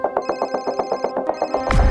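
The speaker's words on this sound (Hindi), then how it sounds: "कोई नहीं उठाएगा आज फोन।" A telephone rings in quick electronic trills, a steady repeating pattern up close, ending with a thump.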